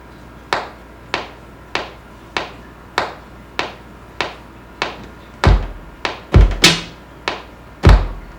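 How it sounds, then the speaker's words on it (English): A metronome clicks in an even beat, about two clicks per second, then a few heavier thumps land among the last clicks. "We'll turn the metronome on"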